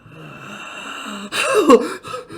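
A man breathing in an exaggerated, heavy way, a drawn-out steady exhale followed by a sharp, loud gasping breath and a shorter huff, close to the microphone.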